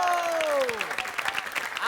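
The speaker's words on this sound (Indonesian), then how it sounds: "tepuk tangannya dulu ya." A falling electronic tone fades into scattered audience clapping, moderately loud and uneven, with voices mixed in over the short burst.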